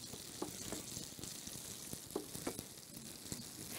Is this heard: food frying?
yes